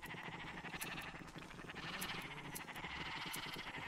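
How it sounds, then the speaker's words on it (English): Sheep bleat repeatedly inside a video game pen, several wavering calls overlapping at moderate volume against a steady background, with no talking. "I'm gonna shear this one conglomerate of a sheep."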